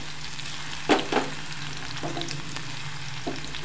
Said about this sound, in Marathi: मोहरी छान अशी तडतडायला लागलेली आहे